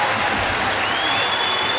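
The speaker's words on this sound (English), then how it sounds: "With those claps going on," Steady, dense applause from a crowd at a women's rugby match between Harlequins and Gloucester-Hartpury, a continuous clapping wash throughout with faint cheering mixed in.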